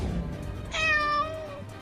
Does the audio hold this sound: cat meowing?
yes